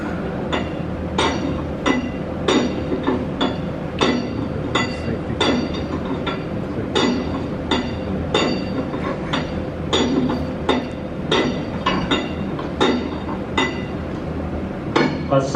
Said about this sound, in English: hit the drill steel with the hammer, and rotate the steel 1/4 turn after each blow